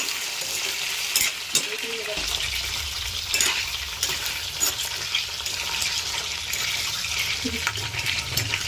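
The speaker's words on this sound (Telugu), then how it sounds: "వంకాయలని ఫ్రై చేసుకుందాం. మసాలా ఇవి మంచిగా ఫ్రై చేసుకుందాం." Eggplants frying with masala in a pan, a steady close sizzle broken by scraping stirs and occasional spatula knocks against the pan, with no talk.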